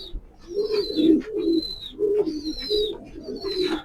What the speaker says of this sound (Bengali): খুবই সুন্দর টপ কোয়ালিটির কবুতরগুলো ভালো আছে